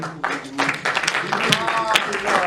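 Audience at a film premiere applauding, a short burst of clapping with voices chattering over it.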